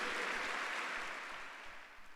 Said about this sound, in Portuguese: dá um aplauso aí ao Senhor, a este Deus dos impossíveis